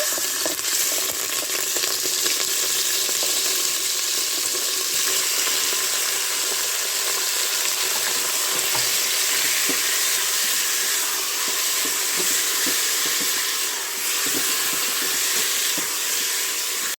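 Pieces of meat frying in olive oil inside a Cookeo multicooker, giving a loud, continuous close sizzle with crackles and light stirring noises throughout, no voices.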